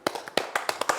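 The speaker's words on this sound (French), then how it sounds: "On va applaudir pour lui." A few people clap for Roger Stéphane in a studio, about seven or eight sharp, separate claps in quick, uneven succession at close range, with no talking over them.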